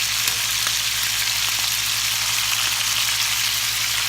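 Onions frying in a pan with browned beef short ribs, a loud, steady, dense sizzle with a faint low hum underneath, close and continuous throughout.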